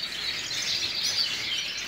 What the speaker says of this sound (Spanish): Mira qué pajarito.